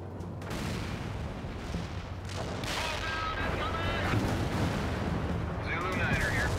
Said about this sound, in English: Artillery strike completed.